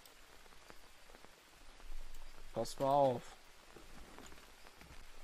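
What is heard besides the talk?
rain in the video game Green Hell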